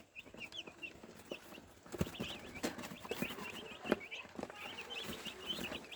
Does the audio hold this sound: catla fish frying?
no